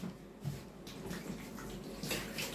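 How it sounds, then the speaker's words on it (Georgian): Water is poured out of a container in a steady, rushing splash that stays fairly quiet and unbroken, with no voices. "ეს წყალი უნდა გადავასხა"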